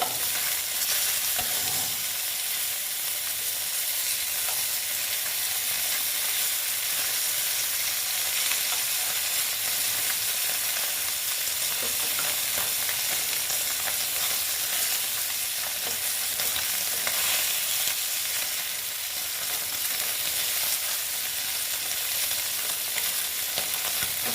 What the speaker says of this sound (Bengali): মাছটা হ্যাঁ, একবারেই ভাজা হতে দিচ্ছি হয়ে যাক ভাজাটা